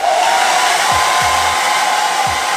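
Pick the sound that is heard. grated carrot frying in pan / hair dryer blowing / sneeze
hair dryer blowing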